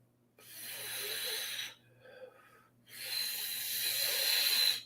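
Two long, loud, hissing breaths drawn in through the nose and mouth during a guided breathing exercise, the second longer and stronger, with a short quiet gap between them and no talking.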